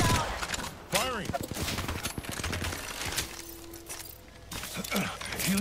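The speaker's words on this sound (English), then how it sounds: "They're shooting at me." Gunfire from an Apex Legends match on the Olympus map during a Halloween trios mode, with bursts of shots and clattering action sounds mixed under frequent voice chat across the scene.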